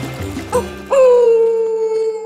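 A cartoon character's voice imitates a wolf howling at the moon: a short whimpering lead-in, then one long, rising, sustained howl, loud and close.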